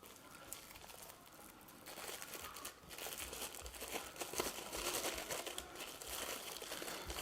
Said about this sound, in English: Make sure you don't get any of the cling film on the inside. So peel it back gently.